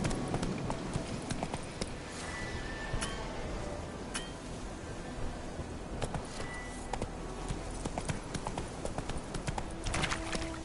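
Roach the horse in The Witcher 3 drums along with rapid, rhythmic hoofbeats, a steady clip-clop over ground with occasional faint clinks of tack, fairly close and quiet.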